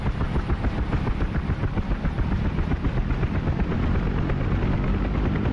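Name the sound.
UH-1 Huey helicopter engine spooling up in DCS flight simulator video game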